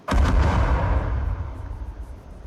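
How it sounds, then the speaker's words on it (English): Artillery shell impact in the video game Patrol Ops 4, a single loud, close blast at the start followed by a heavy low rumble that decays over a couple of seconds, with no voices. "Be advised, friendly artillery inbound on enemy positions."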